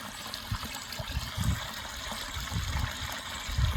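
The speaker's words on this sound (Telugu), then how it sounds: "నీళ్ళు మనకి కిందకి వెళ్ళేలాగా ఇక్కడ ఎత్తికన్నం ఇచ్చారు" Water trickles and gurgles steadily nearby down an irrigation channel in a field, a continuous soft babbling flow with small irregular splashes and no voices.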